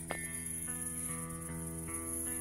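A steady high-pitched cricket trill at night in the countryside runs continuously through the whole stretch, with faint tonal hums underneath and no one speaking.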